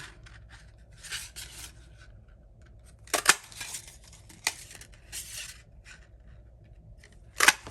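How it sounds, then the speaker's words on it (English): A Stampin' Up! Modern Oval Punch cuts ovals from paper with a few sharp, close clacks and crunches spaced several seconds apart, separated by quiet handling noises and no speech. "And I'm gonna punch out a couple of these."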